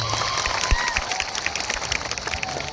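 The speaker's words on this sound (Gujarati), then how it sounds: "એમના માટે એકવાર તાળીઓના ગણગણાટથી એમનું સ્વાગત થઈ જાય" A crowd at a political rally applauds to welcome a local MLA, a dense wash of clapping from many hands spread close and far for a few seconds.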